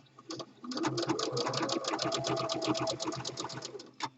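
A sewing machine runs steadily, stitching a fleece seam at a crossover where four corners meet, with a fast, even run of stitches close by, starting and stopping briefly at each end.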